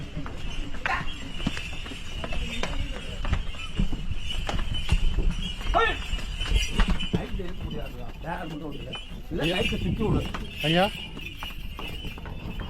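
Bulls carrying holy water climb temple steps, their hooves clopping irregularly on stone amid a busy crowd, with people talking loudly over the steps and shuffling.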